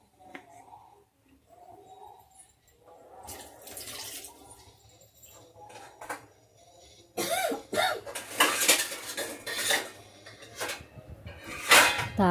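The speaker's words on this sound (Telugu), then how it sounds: "తాలింపు ఘాటుకి దగ్గు కూడా వచ్చేస్తుంది." Several hard, close coughs from pungent fumes of spicy tempering with dried red chillies, coming in bursts toward the end amid faint kitchen clatter.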